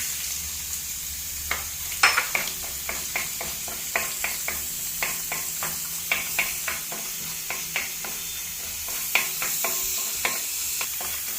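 Steady sizzling of coconut pieces frying in coconut oil in a new pan, punctuated by repeated sharp clicks and scrapes of a utensil stirring.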